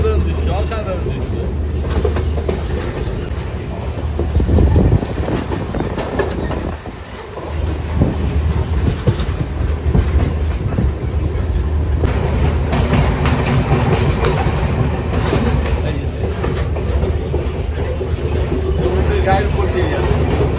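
Onboard a Sri Lankan coastal train travelling from Galle to Colombo, a constant loud rolling rumble with clattering wheels on the track fills the whole stretch, briefly easing for a moment before resuming at full strength.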